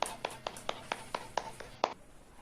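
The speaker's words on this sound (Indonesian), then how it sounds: "Tepuk tangan buat Gina." Brief, faint applause for a student named Gina in a classroom, a short series of about nine evenly spaced claps, sounding like only a few hands.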